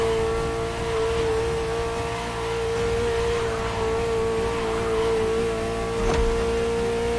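A Ferrari sports car engine in the racing game The Crew Motorfest holds a steady, droning hum with a constant whine, fairly loud and even, with a faint swell near the end and no talk.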